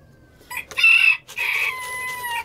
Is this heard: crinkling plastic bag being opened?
no